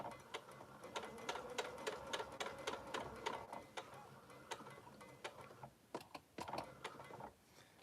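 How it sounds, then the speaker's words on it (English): A sewing machine stitches a quarter-inch seam down the base of a sling bag, its needle tapping in quick, steady bursts with brief pauses between runs, close and alone. "And I'm now going to sew all the way down this base."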